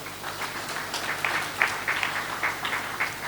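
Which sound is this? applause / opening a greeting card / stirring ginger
applause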